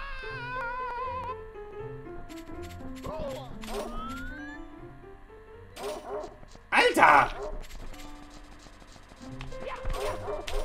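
A dog yaps and barks in short sharp bursts amid game music and sound effects from a Mario 64 style game, a German-speaking player talking over it.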